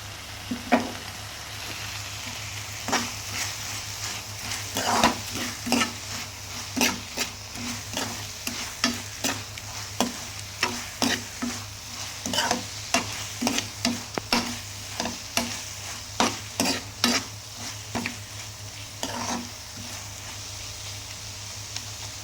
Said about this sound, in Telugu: ఇప్పుడు మనం దీంట్లో వేయించి పెట్టుకున్న రొయ్యలు అనేది వేసేసుకుందాం